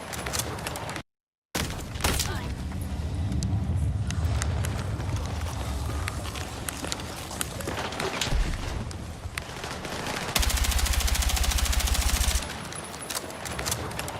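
Gunfire in a video game, sustained automatic bursts crackling through the whole stretch with a brief dropout near the start and a harsher, louder rattle toward the end.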